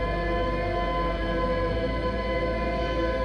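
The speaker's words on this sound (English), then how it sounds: "that noise is the distress beacon that I've found here" Distress beacon signal in the video game Outer Wilds: a steady, droning electronic hum with wavering tonal layers, continuous and moderately quiet throughout, with no talking.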